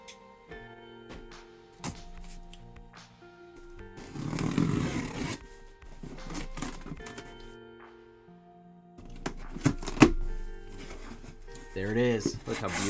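A blade slicing open a sealed case of NFL 2025 Panini Mosaic Mega trading card boxes, with scraping, rustling bursts of plastic and cardboard coming and going close by.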